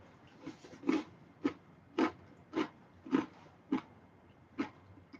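Crunchy pretzels being bitten and chewed up close, about eight sharp crisp crunches in an uneven rhythm, loud and clear with no talking over them.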